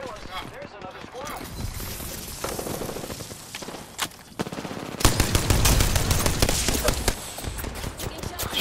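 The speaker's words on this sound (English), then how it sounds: "Oh, he's getting shot from a different team." Rapid automatic gunfire from an Apex Legends match, bursts crackling near and loud, intensifying midway into dense overlapping volleys, with player voices talking over the shooting.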